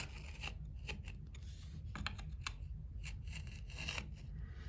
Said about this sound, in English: So you just jab the point of the screwdriver into the crack and just drag it along just to get out any loose debris